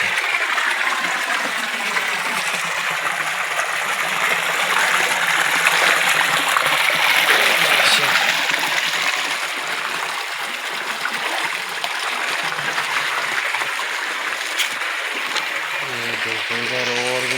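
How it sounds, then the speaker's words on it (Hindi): Mountain water gushes out among stones, a loud, continuous rushing and splashing that swells in the middle and eases slightly later, with a voice talking over it at times. "कैसे पानी निकल रहा है देखो।"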